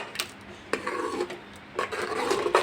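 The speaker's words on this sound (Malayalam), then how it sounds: "നന്നായിട്ട് ഇളക്കി കൊടുക്കാം." A spoon scrapes and rasps against a pot while fenugreek porridge (uluva kanji) made with milk is stirred, in close, uneven strokes with short pauses between bursts.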